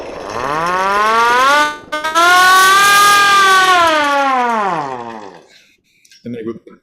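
A wailing synthesized siren sweeps up and falls in long rising and dropping tones, loud and alone, then cuts off into brief quiet blips.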